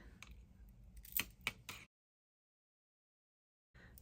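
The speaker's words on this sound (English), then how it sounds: "So we're going to snip that off." Scissors snip a beaded bracelet cord with a few sharp close clicks between soft handling noises, then the sound cuts to silence.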